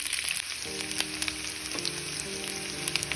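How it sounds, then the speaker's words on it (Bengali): Onions sizzle and fry steadily in a hot pan for Bengali borola fish chorchori, a continuous close crackle with faint stirring throughout. "এবার আমি কিছু পেঁয়াজটা দিয়ে দিচ্ছি"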